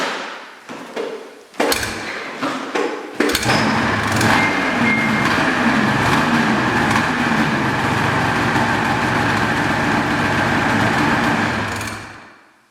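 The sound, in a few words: carbureted snowmobile engine starting and idling with choke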